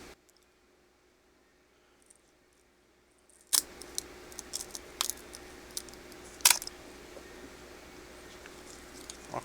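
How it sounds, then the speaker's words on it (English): Tin snips cutting through circuit board ICs: after a quiet stretch, a series of sharp close metallic snips and crisp cracks, with one especially loud snap near the end, over a steady faint background hiss. "I was just able to cut through like circuit ICs and everything with these tin snips"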